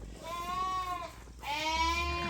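A ewe penned in a farm jug with her lambs gives two loud, close, wavering bleats separated by a short pause.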